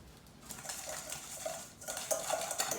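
Spoon stirring a Cajun spice blend with cayenne in a bowl, giving light scraping and clinking against the bowl in quick repeated strokes, close and fairly quiet.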